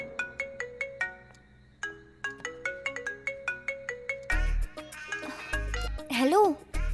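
A phone ringtone plays a repeating chiming melody, then cuts off as voices and louder noises take over.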